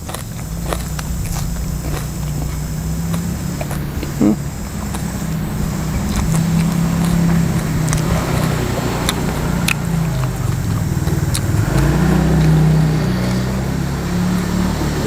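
Vehicles passing along a village road, a steady rumbling of engines and tyres that swells as they go by, with scattered clicks and knocks nearby and people talking over it.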